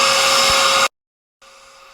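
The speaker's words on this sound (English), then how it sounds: "I'm going to turn on a loud vacuum cleaner over here" A loud vacuum cleaner whines steadily with a strong tonal hum, cuts off abruptly into silence, then returns much quieter and muffled as noise cancellation takes effect.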